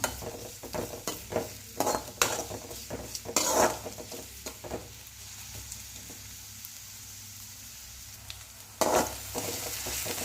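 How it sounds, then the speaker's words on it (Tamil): Onions sautéing in a pan until golden for macaroni, with stirring scrapes and clinks of a utensil against the pan over a steady low sizzle, close and moderately loud. "ஆனியன் சேர்த்துட்டு இந்த ஆனியன் நல்லா ஒரு பொன்னிறமாக வர்ற வரைக்கும் நல்லா ஒரு வதக்கிக்கலாம்"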